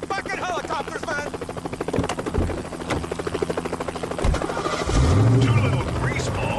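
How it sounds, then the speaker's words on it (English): A helicopter in a TV comedy scene beats steadily overhead under loud dialogue and background noise, with a low rumble swelling near the end. "Tommy, it's a helicopter"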